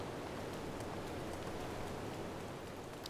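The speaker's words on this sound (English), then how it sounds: "Oh, it's pouring rain again." Heavy rain pours steadily in The Legend of Zelda: Breath of the Wild, a dense, even hiss of falling water that holds at a constant level throughout with no voices.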